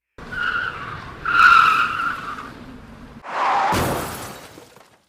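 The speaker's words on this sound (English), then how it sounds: "a car suddenly skidded in front of him. He slammed on the brakes, but it was too late." A car's tires skid in a long screech under hard braking, followed by a sudden crash with shattering glass and a decaying rumble, loud and close.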